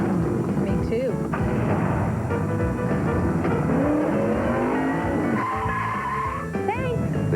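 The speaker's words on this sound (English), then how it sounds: "I start my engine with a powerful Exide NASCAR Select battery." NASCAR stock cars roar at speed during a race broadcast, a loud continuous engine howl with rising and falling pitch sweeps and tire squeal, mixed with voices and announcer talk throughout.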